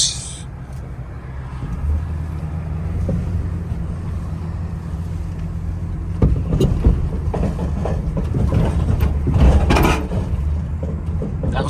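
A small car passes by on a road, a low rumble building and swelling louder midway through amid outdoor wind noise, with no talking.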